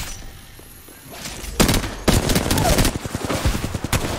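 Gunfire in the Apex Legends video game: after a quiet opening, loud rapid bursts of automatic fire crack repeatedly for the last few seconds, dense and close.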